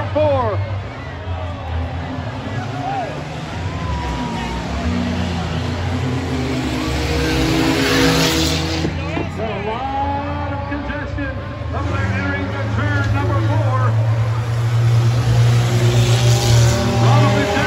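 Race cars at Bowman Gray Stadium, a short oval, roar by in a pack during a chain race, engines droning loud and continuous with crowd babble and an announcer calling the action over it.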